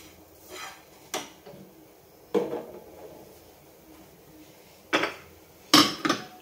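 Metal spoon scraping and clanking against a pan while ginger is stirred into an Onam feast dish, with a few sharp separate knocks spread out between quieter scraping.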